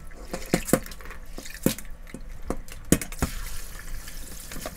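Bean sprouts are rinsed under water in a kitchen, with steady splashing and dripping broken by irregular sharp plops and sloshes.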